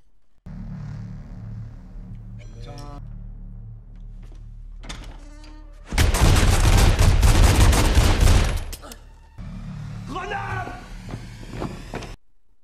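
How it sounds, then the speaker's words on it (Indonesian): A film action scene inside a heavily guarded building: gunshots crack over a low rumble, then a loud sustained fusillade of rapid fire lasts about three seconds, followed by more clatter, with a voice speaking throughout. "setelah selesai menembak beberapa orang"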